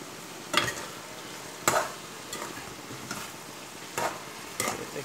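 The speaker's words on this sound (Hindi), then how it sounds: "आज ये अच्छी तरह का मिक्स कर रहा हूँ मैं, और भाजेंगे इसको थोड़ी देर और पकाएंगे" A spice mixture is stirred and roasted in a pan, with a soft continuous sizzle broken by about six scraping stirs at irregular intervals, close and fairly quiet.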